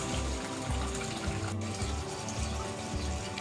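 Water pouring steadily from a pipe into a tilapia aquaponics tank, a continuous close splashing rush with low gurgling pulses underneath.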